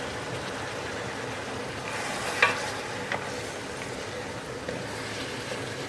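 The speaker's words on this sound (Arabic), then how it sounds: "الحين أحط الطماطم، والطماطم لازم تكون فريش." Chicken cooking in a pot as fresh tomatoes are added for Saudi zurbian rice, giving a steady close sizzle with soft stirring scrapes and one brief clatter midway, with no talk.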